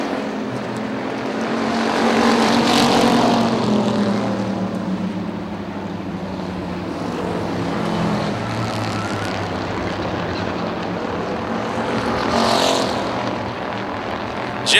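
Race cars lapping the Motordrome Speedway oval during a late-race feature, a steady loud engine roar that swells as cars pass near and fades, with a second surge toward the end and no talk.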